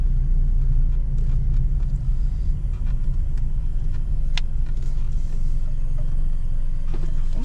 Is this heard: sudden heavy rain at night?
no